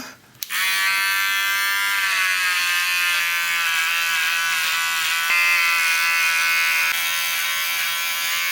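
An electric beard trimmer buzzes steadily and close under running water, a continuous high whine that starts with a click and keeps going throughout.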